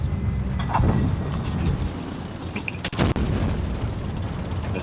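Tank cannon fire in the video game World of Tanks, from a WZ-132-1 light tank, a loud sharp blast over a dense, constant engine and battle rumble.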